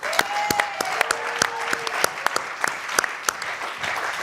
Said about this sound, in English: Let's have another hand of applause for Danny McCaskill.